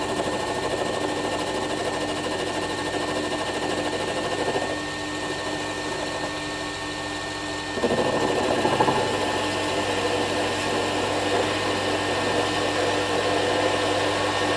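A lathe skims down the heads of stainless steel M6 by 25 mm bolts, giving a steady close machining whine and hum that steps louder partway through and carries on without a break.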